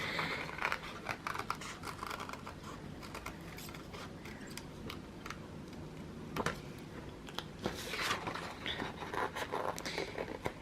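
Scissors snip through a printed Kindle sticker sheet by hand, giving quiet, irregular crisp cuts and paper scratches close by, with denser bursts of snipping near the middle and end.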